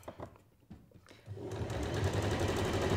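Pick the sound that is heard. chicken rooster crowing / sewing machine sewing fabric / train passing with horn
sewing machine sewing fabric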